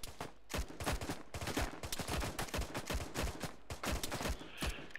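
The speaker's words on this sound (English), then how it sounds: "Let's get LMG firing." Light machine gun firing in a military video game, a fast irregular string of shots with short pauses between bursts, moderately loud and fairly close.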